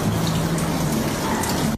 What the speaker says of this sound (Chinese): 外头下着暴雨，但声音不是从外面传进来，家里室内竟然也下起小雨